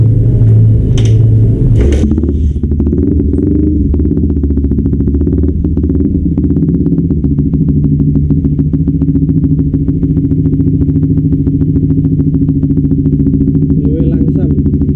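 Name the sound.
bored-up Honda CB150R motorcycle engine running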